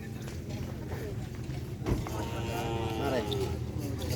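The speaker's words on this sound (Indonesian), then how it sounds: "Kayaknya ada sapi yang mau dilepas teman-teman." Cattle low on a farm at a training ground, with one drawn-out moo rising over background noise and shuffling hooves while people talk nearby.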